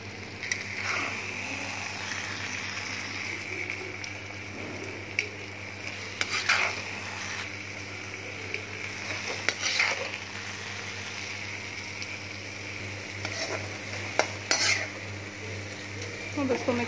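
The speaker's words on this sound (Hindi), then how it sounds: "अब हम ये मटर अपने राइस में ट्रांसफ़र करने लगे हैं।" A spoon stirs green peas into rice in a metal pot for matar pulao, giving steady scraping and clinking with a few sharper knocks against the pot over a constant low hum, no voices.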